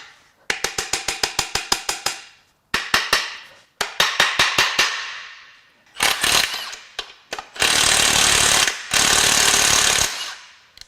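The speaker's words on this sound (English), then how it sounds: "Could also use the air chisel and kind of mess the threads up." A pneumatic air chisel hammers on a part of a salty 200K-mile Subaru Outback EZ30R 3.0 H6 engine during teardown, loud and close, in rapid staccato bursts that give way to longer sustained rattling runs.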